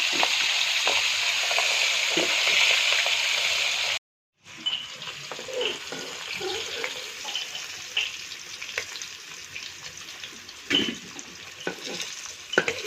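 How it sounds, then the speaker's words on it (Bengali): Chicken leg pieces frying at an outdoor December picnic, a steady close sizzle with scraping stirs, a brief break, then a quieter sizzle with scattered clatters and knocks. "সামনে ভাজা হচ্ছে লেগ পিস"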